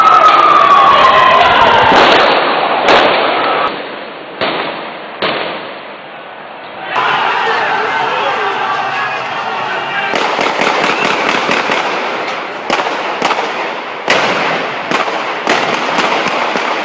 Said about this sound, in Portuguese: Passeatas sendo reprimidas com tiros de armas letais.